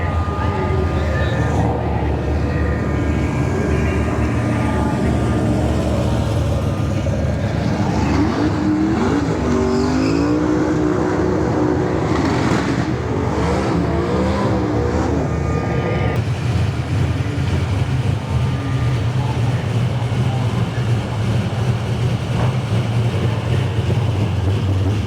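Drag racing cars roar past at a dragway during a street machine drag challenge, loud engine noise rising and falling as machines pass close by, with a crowd-like wash of background noise throughout.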